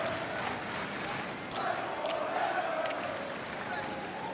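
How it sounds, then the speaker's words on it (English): A wrestling arena crowd roars steadily for both teams during a tag team match between FTR and The Briscoes, a dense continuous cheer with a few sharp shouts rising above it. "listen to the crowd now and listen"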